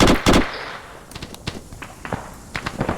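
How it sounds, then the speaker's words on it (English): Mortar fire in the military video game ArmA 3: a loud double blast opens, followed by scattered sharper cracks and thuds of varying distance against a low background. "They are indeed firing mortars"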